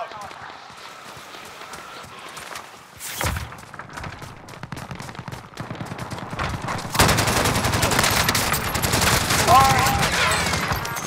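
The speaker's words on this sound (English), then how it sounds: "Stop shooting me, stop shooting me." Gunfire in Call of Duty: Modern Warfare: scattered shots give way to a sustained, loud barrage of rapid automatic fire and impacts in the second half, with players talking over the firefight.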